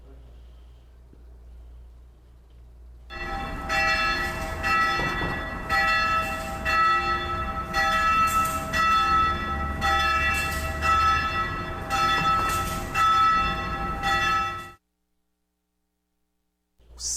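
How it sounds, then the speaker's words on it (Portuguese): A church bell in Guarapari tolls again and again, loud and close, its strikes ringing out for about eleven seconds before stopping abruptly, with a quieter stretch of ambient noise beforehand. "Sino batendo, mas ele não está batendo só uma vez não"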